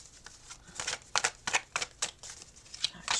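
Tarot cards are shuffled by hand in quick, uneven bursts of crisp riffling and slapping, close and clear with no talk over them.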